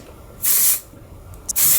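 Color Wow lightweight hairspray and texturizing spray in one, sprayed in two short hissing bursts separated by a brief pause, close and loud.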